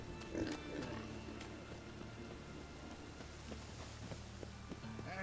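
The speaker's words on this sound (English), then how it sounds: "It's raining again." Rain falls in the Novigrad area of the video game The Witcher 3 as a faint, steady patter across the surroundings, with a few brief ambient noises in the background.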